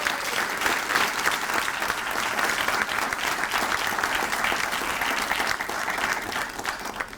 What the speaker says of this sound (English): I think we should give these persons another round